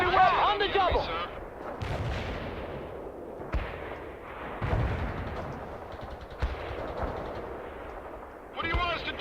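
Artillery and gunfire in the World In Conflict video game: a series of heavy booming impacts and bursts of automatic fire, spaced every second or two, with radio-style voices talking over parts of the battle.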